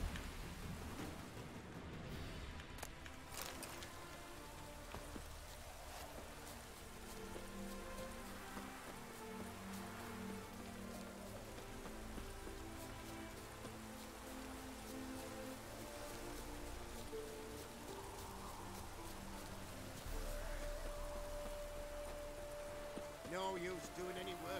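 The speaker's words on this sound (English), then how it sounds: "No use doing any work in this rain." Steady rainfall in The Witcher video game, a continuous hiss of drops on surfaces with faint rumbles, while voices and game sounds come through over it.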